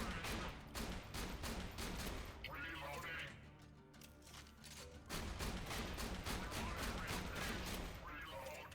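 Hyperion shotgun in Borderlands 2 firing in rapid succession, a dense barrage of loud blasts with mechanical clatter between shots and a short pause midway, over game sound.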